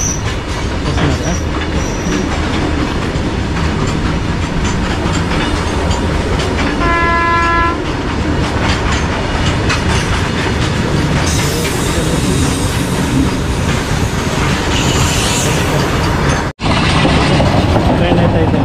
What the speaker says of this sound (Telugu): ట్రైన్ అయితే మన మీదకి వెళ్ళిపోతుంది